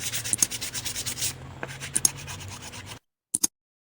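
A scissors blade edge is rubbed and polished to remove rust, giving a run of close, dry scraping strokes in an uneven rhythm that stop abruptly, followed by two quick faint scratches after a short silence.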